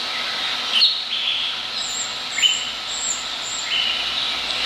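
Tropical birds in a zoo aviary give scattered high chirps and short tweets over a steady hissy background, several brief calls spread across the moment, fairly close.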